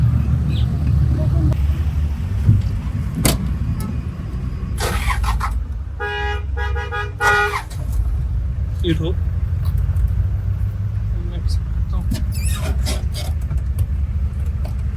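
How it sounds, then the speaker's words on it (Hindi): Car engines rumble as a camping convoy gets under way, with several sharp horn toots and a longer honk sounding near the middle and later, while people talk throughout. "और गाड़ियाँ के इंजन स्टार्ट हो गए हैं।"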